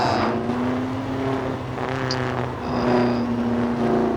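A Marlboro-style Formula 1 race car built in the game Trailmakers drones with a steady, humming engine tone that swells slightly toward the end, with no other sounds over it.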